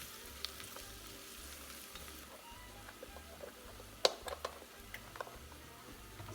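Garlic and onions sizzle in a pot, a soft, steady frying crackle with faint pops, under a quiet low hum that pulses on and off, and a single sharp clink partway through.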